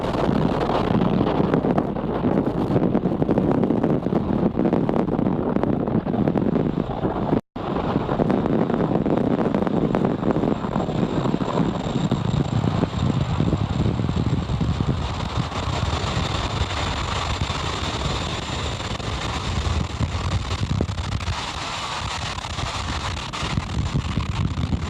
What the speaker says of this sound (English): And liftoff of Falcon 9.